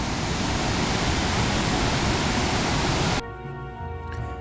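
Roaring waterfall at Puente de Dios, heard from an observation tower as a dense, steady broadband rush that cuts off abruptly near the end, leaving a quieter tonal hum.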